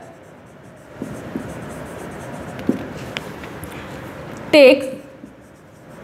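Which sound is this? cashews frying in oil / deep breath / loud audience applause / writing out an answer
writing out an answer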